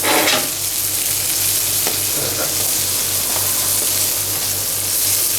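Jumbo shrimp sizzle in butter inside a hot clay pot, a steady, loud, close hiss with a low background hum running under it throughout.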